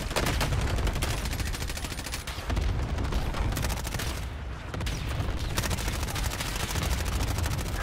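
Rapid bursts of video game gunfire, including machine-gun fire, crackle loudly and almost continuously during a firefight, with brief dips between volleys.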